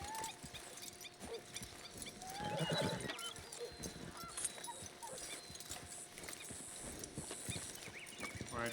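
Horse hooves clip-clopping and occasional neighing in the video game Red Dead Redemption 2, faint but steady hoof rhythm amid outdoor ambience, with a dog also audible.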